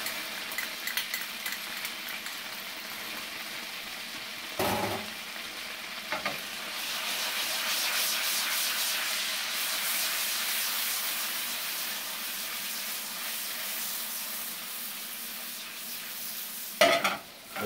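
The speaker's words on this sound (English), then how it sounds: "Now to this we're going to add 2 cloves of chopped garlic." Chopped garlic sizzles steadily in butter with wine and lemon juice in a pan, a continuous bright frying hiss broken by a few louder stirring scrapes, close and without talk.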